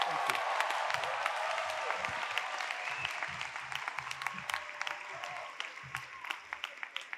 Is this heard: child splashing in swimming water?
no